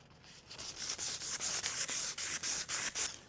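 Repeated sanding strokes rasp against an aluminum handlebar of a Yamaha YZ450 in a steady back-and-forth rhythm, about a dozen passes, close and fairly loud with no talking.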